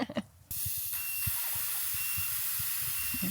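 Sanhema settable tyre deflators let air out of a vehicle's tyres in a steady, close hiss that starts abruptly and holds throughout, with faint knocks beneath.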